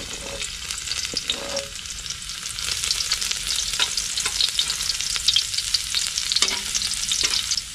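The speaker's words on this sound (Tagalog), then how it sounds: "Lagyan na po ang bawang" Garlic hits hot oil in a pan, giving a loud, continuous close sizzle with occasional scraping stirs, heard alone with no talking.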